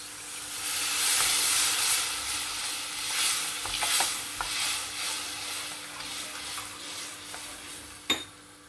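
Water hits a hot pan of taro tamarind curry, a steady sizzle and hiss with stirring scrapes that fades gradually, ending with a sharp clink, and no voices.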